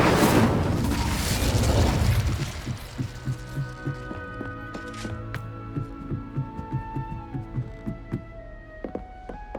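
An Incendio fire spell cast in Hogwarts Legacy bursts out as a loud, roaring whoosh that fades over about two seconds, followed by rhythmic low thumps and sustained tonal music.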